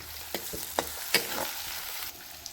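Onions frying in a pan for a kanda-korudyachi bhaji, a soft continuous sizzle with a few clicks and scrapes of a stirring spoon, close but quiet, no talking.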